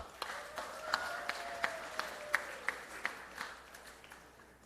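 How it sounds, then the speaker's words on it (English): At a political local government election event, an audience gives a round of applause for a cabinet minister: sparse, moderately distant clapping with distinct individual claps standing out over a faint hum and a background tone. "A round of applause."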